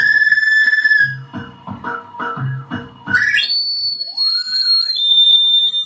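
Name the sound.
feedback looper guitar pedal effect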